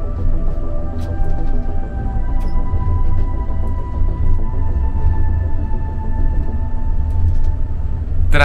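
Steady low rumble of a tram rolling along its tracks on an elevated viaduct in Kraków, Poland, with a faint electric motor whine and occasional light clicks.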